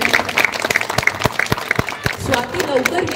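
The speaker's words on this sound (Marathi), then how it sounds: "एकदा जोरदार टाळ्या उद्या त्या इतक्या सुंदर कवितेसाठी" Audience applause for a poem recited at a Marathi Language Day event, a quick run of loud, distinct claps gathering into a looser patter, with a voice speaking over part of it.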